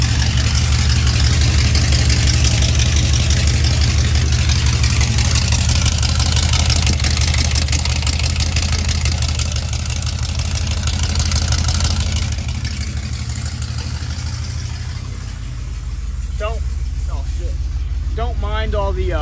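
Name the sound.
engine started with key, idling, possible exhaust leak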